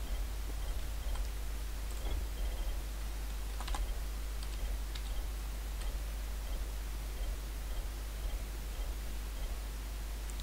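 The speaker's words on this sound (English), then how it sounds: "I'm gonna just type up package." Typing on a computer keyboard while searching for game mods: soft, irregular key clicks in short bursts over a steady low hum, continuing for about ten seconds with no voices.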